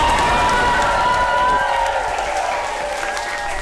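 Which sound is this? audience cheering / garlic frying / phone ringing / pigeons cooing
audience cheering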